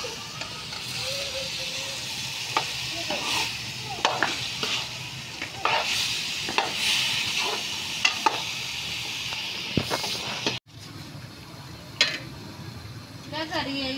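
Potato and eggplant being fried and stirred in a pan, a continuous sizzle broken by repeated scraping strokes of a spoon, with a voice talking faintly in the background.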